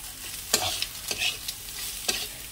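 A spoon stirs a spice mixture of chili powder, green chili, black pepper and a little sugar in a cooking pan. Several sharp scraping strokes come at uneven intervals over a soft, constant frying sizzle, with no voices.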